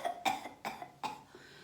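Four short coughs in an even rhythm, fairly close and clear, with no talking over them.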